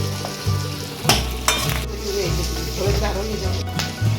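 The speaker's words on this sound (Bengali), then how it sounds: "আলু ভাজা হয়ে গেছে" Potatoes frying in oil in a pan for a Bengali snakehead fish dish, a loud close sizzle with stirring scrapes and a few sharp knocks against the pan, over a low background hum.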